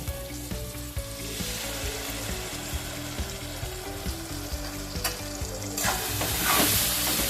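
Poppy seed paste fries in a pan for a paneer curry, with a loud continuous sizzle and repeated stirring scrapes that swell into a brighter hiss near the end, no voices.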